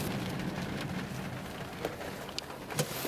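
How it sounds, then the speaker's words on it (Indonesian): Light drizzle falls steadily outdoors, a soft continuous patter of raindrops on surfaces with occasional slightly louder drips, close and even throughout with no voices. "Hari ni nak pergi mendaki tapi hujanlah pula. Hujan renyai-renyai."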